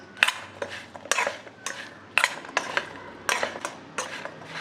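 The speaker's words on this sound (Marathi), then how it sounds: "आता हे चांगलं आपण मिक्स करून घेऊ" Spices are mixed into chopped raw mango pickle with a spoon in a bowl, giving a series of about eight sharp scraping, clinking strokes in an uneven rhythm, close and moderately loud with no talking.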